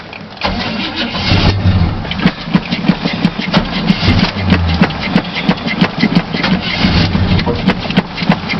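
A car engine cold-starts with cranking and sputtering after the pedal is pumped, then catches into a rough, uneven idle, loud and close throughout.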